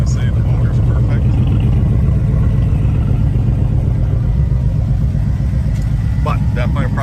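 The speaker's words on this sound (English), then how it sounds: "Runs a little rough. I'm not going to say the motor's perfect." A Ford Bronco engine running rough, a steady low rumble that is loud and close, with a voice talking over it.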